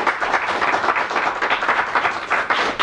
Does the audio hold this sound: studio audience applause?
yes